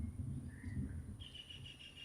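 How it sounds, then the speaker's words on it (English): Brown-headed barbet and tree pie calling in the distance, faint tonal bird notes first a short phrase then a series of repeated higher calls over low background rumble. "Behind you can hear the brown-headed barbet"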